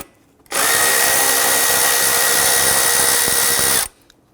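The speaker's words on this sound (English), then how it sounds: "I want to go ahead and loosen and remove these." Power tool spinning off 10 mm bolts from a metal bracket on the intake of a 4.0L V6 Nissan Frontier: one steady, loud, high whirring run of about three seconds, close up, with silence before and after.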